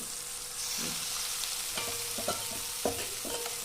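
A second batch frying in hot oil in a pan, a soft, steady sizzle with a few light scrapes and clinks of stirring, fairly quiet and close.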